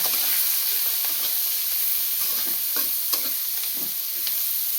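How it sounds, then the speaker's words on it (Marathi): Chopped onion stir-fried in a pan for pasta, giving a constant bright sizzle broken by regular spatula scrapes and taps against the pan, close by and without speech. "हा कांदा टाक टाकलेला आहे याला आता आपण दोन मिनटं छान असं पॅक परतून घेऊया"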